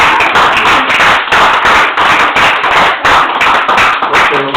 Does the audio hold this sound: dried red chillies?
no